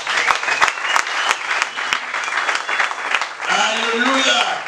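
A church congregation applauds steadily throughout, a dense crackle of clapping with a voice speaking over it and a sung or sustained vocal rising near the end.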